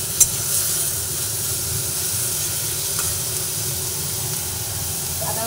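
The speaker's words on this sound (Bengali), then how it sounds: "আদাও ভালোভাবে নাড়াচাড়া করে ভেজে নিচ্ছি।" Ginger fries in oil with onion and garlic while being stirred, producing a continuous hissing sizzle with a sharp utensil tap near the start.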